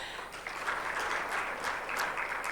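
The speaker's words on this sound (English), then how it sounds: "May we please clap for her?" An audience at a microfinance tech summit claps together, a dense, even patter of many hands that swells after the first half second and holds steady.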